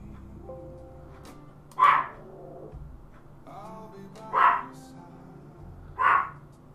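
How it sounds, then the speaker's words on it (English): A dog barks three times, single sharp barks spaced about two seconds apart, slightly distant and indoors, over a quiet background hum. "sorry for the dog that is barking"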